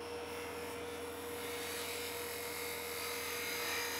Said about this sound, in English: I'm going to start by rough shaping the bowl here